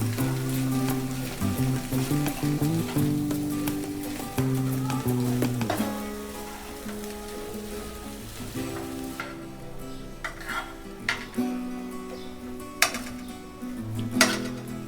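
Samosa filling with red chili powder frying in a pan while being stirred, a steady sizzle with scraping and clinking of the spoon against the pot, up close, with some tonal music playing along.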